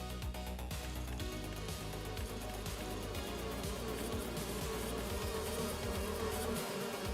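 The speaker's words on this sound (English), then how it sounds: "Let's get some bees running." Steady insect-like buzzing of bees in the Farming Simulator 25 farming game, a continuous drone lasting throughout over a low rumbling in-game background, with no talking.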